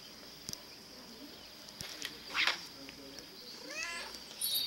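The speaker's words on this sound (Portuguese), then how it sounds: "O meu gato tá fazendo barulho aqui" A pet cat meows a few times nearby, short faint calls over a quiet indoor background with some light movement noises.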